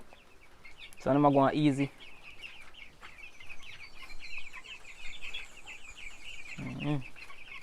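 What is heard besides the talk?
chickens in a fowl coop on a Jamaican farm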